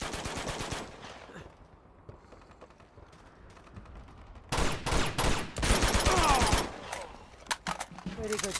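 Rapid machine-gun bursts in the Uncharted 2: Among Thieves video game, loud volleys at the start and again in a long dense burst midway, separated by a quieter stretch of ambient noise, with scattered single shots near the end.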